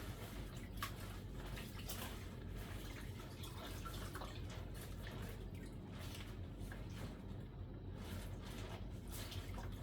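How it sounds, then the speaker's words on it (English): Bubble hash being rinsed in water, a continuous wash of splashing, trickling and dripping that is steady and close, with no voices. "Rinse it in water."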